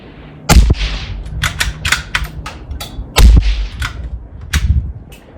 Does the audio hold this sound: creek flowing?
no